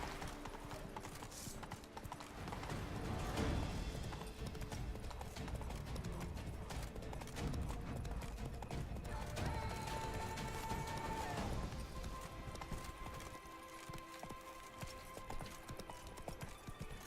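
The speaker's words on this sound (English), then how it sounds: "Whoa there, Roach" Horse hooves clip-clopping in The Witcher 3: Blood and Wine video game, a continuous beat under a dense bed of game music and ambience, with a voice briefly heard.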